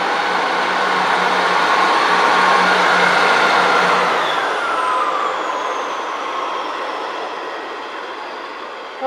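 A train on the Crewe to Derby service rushing past close by, a loud broad roar with wheel and rail noise that swells then slowly fades as it moves away, no talking.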